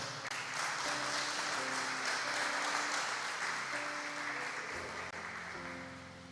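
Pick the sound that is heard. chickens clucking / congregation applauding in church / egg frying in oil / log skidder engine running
congregation applauding in church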